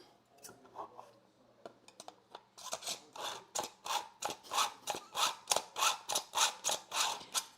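Scissors pulled repeatedly through a Fiskars handheld sharpener, starting with a few scattered scrapes and settling into a steady run of about a dozen rhythmic rasping strokes, close and fairly loud with no talking.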